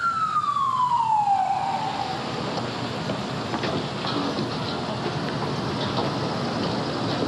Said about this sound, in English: Here come the sirens.